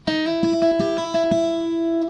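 Solo fingerstyle guitar played up close: a held note with a quick series of hammer-ons and pull-offs over it, smooth legato with no voices.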